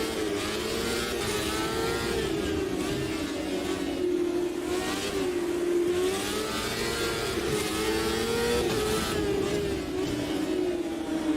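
Rallycross car engine in the racing game Automobilista 2, a steady loud high-revving drone that rises and dips slightly as it sits near the limiter, continuous for over ten seconds with no speech.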